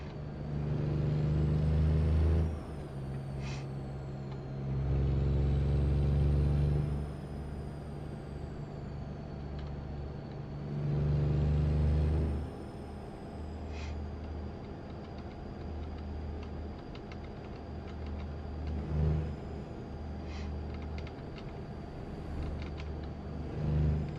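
Truck engine in American Truck Simulator on an Arizona to Oregon long haul, a steady low drone that swells louder in several broad surges, with faint clicks and ticks over the constant rumble.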